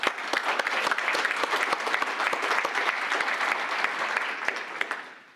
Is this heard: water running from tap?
no